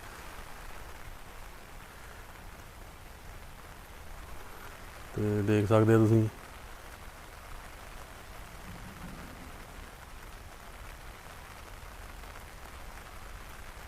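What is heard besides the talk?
rain falling on flooded farmland in Punjab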